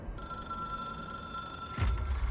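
An old-style telephone rings steadily with a bright, sustained bell tone inside the video game Control, followed by a low rumble near the end.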